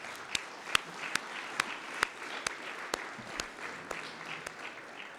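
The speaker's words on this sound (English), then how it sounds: "We need to applaud all of them for what they've done for us as individuals" An audience applauds at a Richmond celebration honoring the first African-American majority elected to the city council. Scattered claps ring out in a steady, fairly even rhythm against a soft murmuring background.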